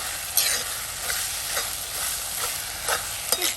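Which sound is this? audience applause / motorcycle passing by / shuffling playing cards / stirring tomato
stirring tomato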